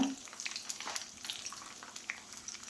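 Chopped garlic sizzles and crackles in hot oil in a pan while making lime pickle, a steady, fairly quiet frying hiss with small pops throughout and no voices.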